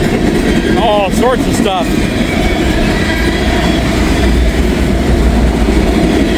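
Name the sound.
freight train passing with tank cars and auto rack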